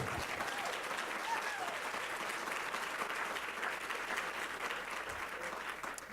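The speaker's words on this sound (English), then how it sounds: "I think I stepped on your applause." Continuous audience applause at a university conversation event, a steady wash of many hands clapping at moderate distance with a low hum beneath.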